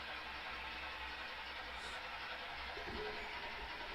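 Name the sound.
model train locomotive running, Concord J3A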